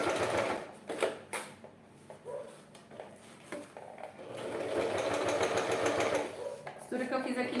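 A sewing machine stitches a fabric wine bottle holder in short stop-start bursts and then a longer steady run, close and clattery, with handling knocks and rustles in between.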